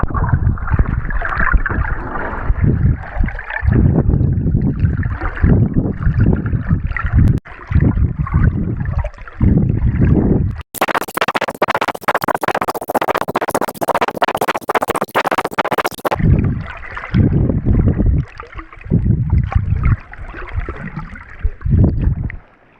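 Swimming in the sea off the tip of Italy, with close, continuous water sloshing and splashing strokes; a burst of wind buffeting on the microphone interrupts midway.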